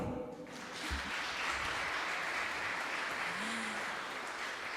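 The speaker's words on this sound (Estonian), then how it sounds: "Teeme talle veel korra ühe tugeva aplausi." A crowd applauds steadily at an Estonian music awards gala, honouring a singer's opening performance; the sound is a dense, even wash of clapping across the whole stretch, moderately loud and without speech.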